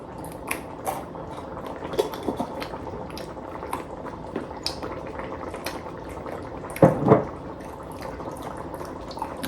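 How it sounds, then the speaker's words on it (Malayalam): Beef boiling in a pot on a home stove, with a steady close bubbling and dripping, small splashy pops throughout and one louder gurgling burst near the end. "ബീഫ് തിളയ്ക്കുന്നത് നോക്കി നിൽക്കുന്ന ഞങ്ങള്."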